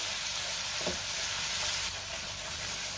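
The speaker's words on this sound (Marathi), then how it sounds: "आता हा जो वाटून घेतलेला मसाला आहे तो आपण घालूया आणि छान तेल सुटेपर्यंत हा मसाला आपल्याला परतून घ्यायचा आहे" Ground masala paste sautéing in oil for a prawn curry, a dense continuous sizzle and hiss with a brief scrape of stirring, close and fairly loud throughout.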